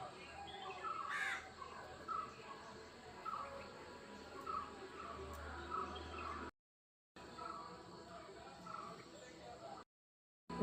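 Crows call in short, repeated caws at moderate distance outdoors, spaced through the scene over a steady low background hum, with a couple of brief silent gaps.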